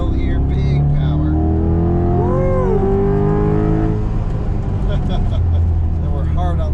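A Corvette C8 Z51 convertible's engine pulls hard uphill on a snowy canyon road, a loud sustained roar with rising and falling pitch as it accelerates, heard up close from inside the car.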